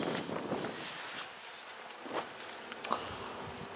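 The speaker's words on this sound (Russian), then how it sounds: "Пчелы начинают активно подбегать к матке." Honeybees buzz in a queenless hive as a new queen is introduced, a soft continuous hum with faint individual wingbeat flickers, low and close, with no voices.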